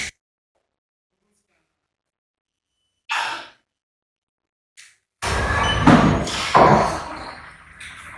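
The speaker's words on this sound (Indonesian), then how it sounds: "Tarik nafas, hembuskan." A person takes a deep breath in and lets it out in a long sigh during a guided breathing exercise, one brief exhale near the middle followed later by heavier breathing and a thud-like rustle.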